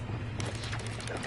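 Confringo fire spell cast in Hogwarts Legacy, a dense crackling burst of explosive impacts filling the short moment, loud and close.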